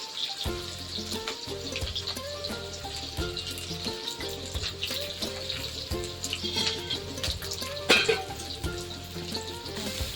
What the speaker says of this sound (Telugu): ఉల్లిపాయలు మంచిగా వేగినాయి కదండి